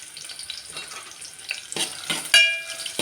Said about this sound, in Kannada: ಅದಾದಮೇಲೆ ಈರುಳ್ಳಿನ ಹಾಕ್ಕೊಳ್ತಾ ಇದ್ದೀನಿ ಒಗ್ಗರಣೆಗೆ